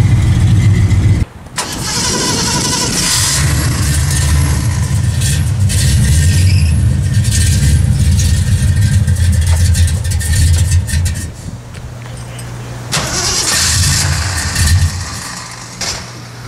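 An AMC 304 V8 from a 1979 AMC AMX, fitted with headers, cranks and fires up on a dyno, then runs with a loud, steady rumbling roar, briefly dips, and revs again near the end.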